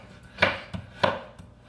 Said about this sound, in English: So let me chop this banana real quick.